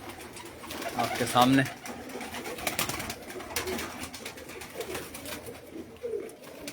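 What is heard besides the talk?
flying pigeons of Malik Amir Langrial cooing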